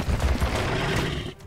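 Crossbow shots in the video game The Last Spell: a loud, dense burst of overlapping thuds and impacts that holds steady for over a second, then drops off abruptly at the end.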